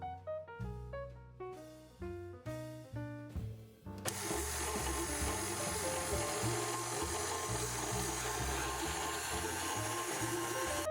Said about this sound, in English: I'm gonna pop this onto my stand mixer to start creaming it together